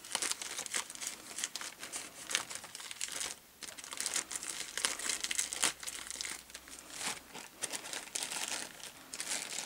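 A plastic yarn-parcel bag crinkling and rustling steadily, close up, with irregular bursts of crackle throughout and a brief quieter pause partway through; no voices.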